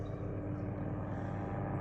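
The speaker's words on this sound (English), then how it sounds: "We got a helicopter flying overhead somewhere." A steady, droning rumble of a helicopter passing somewhere overhead, constant and fairly distant, with no voices.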